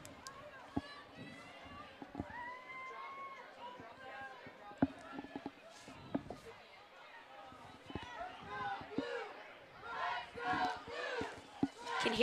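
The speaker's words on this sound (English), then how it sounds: "Can hear the chants from the Michigan crowd tonight." The crowd at a Michigan home women's college soccer match against Michigan State chants and cheers in the stands. The sound is moderately distant and rises toward the end, with scattered shouts and a commentator speaking over it.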